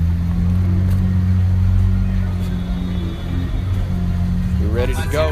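A Lamborghini drives along a street, its engine a steady low droning hum with voices talking over it.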